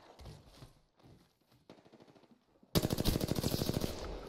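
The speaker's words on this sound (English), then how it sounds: "Oh, fucking charge rifle" A charge rifle in the video game Apex Legends fires in a loud burst of rapid, close impacts that cuts in abruptly after quieter stretches of muffled in-game shuffling and movement.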